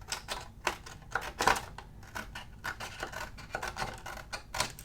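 Scissors cut through a paper planner sheet, a quick series of close, crisp snips and rustles in an uneven rhythm, alone without talk.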